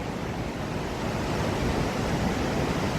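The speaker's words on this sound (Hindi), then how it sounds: "आजकल पानी का फ्लो बढ़ गया है, क्योंकि बर्फ़ मेल्ट होने लग गई है आजकल।" The Saraswati river, swollen by snowmelt, rushes in a loud, continuous roar of churning water that stays close and steady throughout, with no voices.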